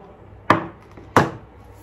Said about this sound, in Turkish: Maydanozu da doğrayıp ekleyeceğim.